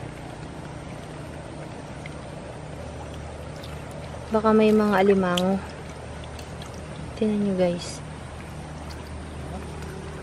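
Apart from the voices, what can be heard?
water flowing from a spring beside a river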